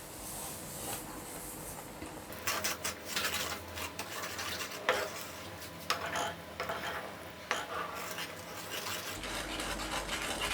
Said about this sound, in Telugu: హై ఫ్లేమ్లోనే పంచదార కూడా పాలల్లో కరిగిపోయేలాగా తిప్పుతూ ఉండండి